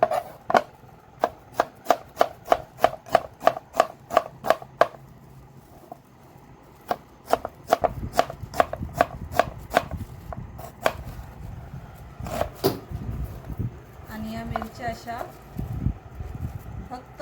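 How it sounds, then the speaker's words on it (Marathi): A knife cuts through a large onion on a board, producing quick rhythmic chops in bursts and then a looser, irregular run of cuts, near and crisp, with a voice talking over parts of it. "कांदा मोठा आहे त्याच्यामुळे आपल्याला याला सेंटरमधून अशी आडवी कापायचे"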